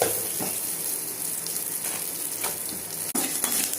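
Onion frying in a pan for a raw mango coriander rice, a steady close sizzle with faint stirring scrapes throughout, no voices.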